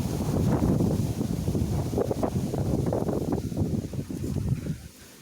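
Steady wind buffeting the microphone outdoors, a continuous low rumble with gusty fluctuations that eases off near the end.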